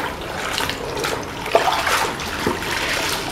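Water runs and splashes as a floor mop pad is wetted in a home, a steady watery wash with a couple of soft splats, close by and with no talking.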